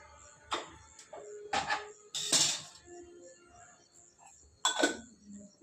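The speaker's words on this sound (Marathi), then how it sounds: "कढई ठेवली, त्याच्यात तेल टाकू." A metal kadhai (wok) set down with several sharp clinks and clatters in a home kitchen, then cooking oil poured in, heard as separate short bursts with quiet gaps between them.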